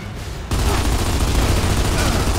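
Gears of War 2 gunfire: a sustained burst of rapid, dense shooting starts abruptly after a brief quieter moment and continues loud to the end.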